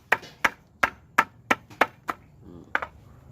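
Grilled buffalo skin is pounded with a run of about eight sharp, close, evenly spaced blows, then a short pause and one final hit.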